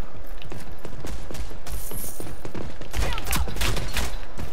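Rapid bursts of gunfire from the video game Rogue Company, dense overlapping shots with mechanical clatter running continuously and loud.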